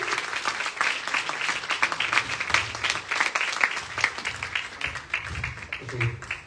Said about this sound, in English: Huge round of applause for Sylvie Rogers